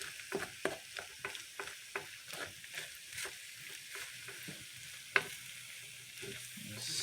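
Meat frying in a pan for a spaghetti dinner is stirred with a rhythmic series of scraping strokes over a soft, continuous sizzle, with one sharper clack partway through.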